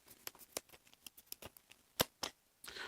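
A deck of board game cards being shuffled for Mage Knight, heard as a run of crisp, irregular snaps and riffles, close and fairly quiet, with a brief rustling flurry at the end and no talking.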